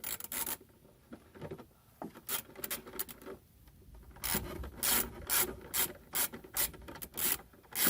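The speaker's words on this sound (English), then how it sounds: "put your bolts back in, tighten them up" A ratchet tightens the tail light bolts on a 2007 Honda Pilot, with a series of quick, crisp clicking bursts in short strokes, close up and moderately loud, growing more regular toward the end.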